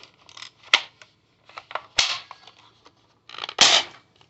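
A cheap spring-powered airsoft gun being fired: several sharp, isolated snaps with lighter mechanical clicks in between, close by and with no talking.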